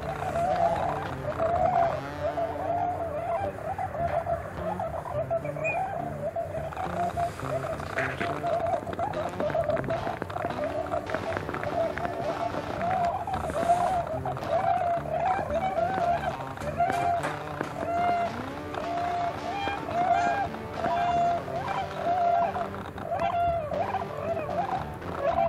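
Tundra swans call at Pea Island in the North Carolina winter, a steady overlapping chorus of soft, high hooting notes from a large flock, continuous and moderately distant with no talking.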